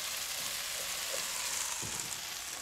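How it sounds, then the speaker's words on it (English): Mince frying in a pan gives a steady, faint hiss of sizzling throughout, with a brief soft stir near the end. "Stir your mince, Garry."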